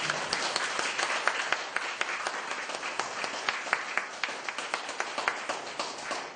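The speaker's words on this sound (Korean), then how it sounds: "박수 한번 주시겠습니다" A church audience applauds to welcome a pastor, the many-handed clapping steady and fairly even throughout, moderately distant and sounding on its own without voices.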